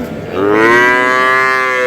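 A young Jersey calf at the Ambari cattle market lets out one long, loud, close moo that rises and then holds steady.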